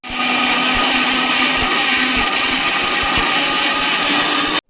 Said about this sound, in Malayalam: ഇത്രയും നമുക്ക് മിക്സിയുടെ ജാറിലേക്ക് ഇട്ട് കൊടുത്ത് നന്നായി ഒന്ന് ചതച്ചെടുക്കണം